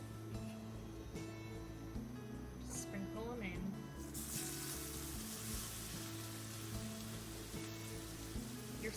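Onions and garlic saute in a hot skillet on medium-high heat, a steady dense sizzle filling the background with some clatter and voices over it.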